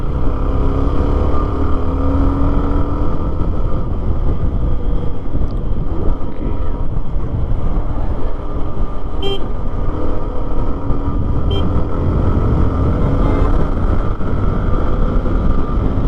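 A motorcycle engine drones steadily during a ride, a loud, constant rumble mixed with road and wind noise, with a couple of brief horn toots in the distance.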